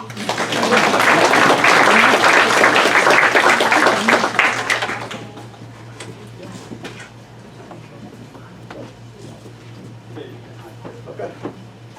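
A burst of audience applause at a town committee nomination meeting, dense clapping for about four seconds, then fading into a quieter room with scattered small noises.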